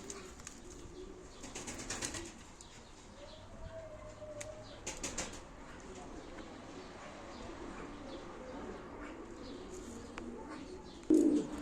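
Pigeons at a live pigeon auction, with soft wing flaps and faint cooing close by against a quiet room background.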